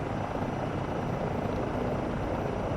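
A helicopter in Microsoft Flight Simulator drones steadily with a loud, even rotor and engine roar that runs unbroken throughout.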